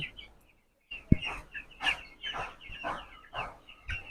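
Broiler chickens on a poultry farm with about 700 birds, a series of short chirps and clucks from nearby birds, irregular and fairly faint, with a single sharp knock among them.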